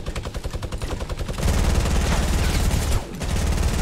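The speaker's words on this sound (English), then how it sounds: "This is when we'll have to unleash the true power of P90X against him." A P90 compact submachine gun in Fortnite fires in sustained loud automatic bursts, a rapid rattling stream that grows heavier midway and pauses briefly near the end before resuming.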